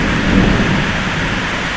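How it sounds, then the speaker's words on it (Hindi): A heavy thunderstorm downpour roars loud and steady at close range, with dense rain hiss and a low rumbling undertone throughout. "प्रबल जोर वर्षा देखो"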